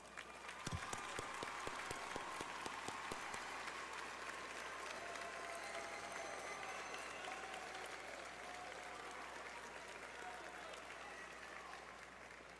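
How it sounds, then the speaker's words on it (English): A large crowd at a college commencement ceremony breaks into sustained applause, a dense roar of clapping with a few sharp nearby claps early on, slowly easing over several seconds. "please stand and receive a well-deserved round of applause."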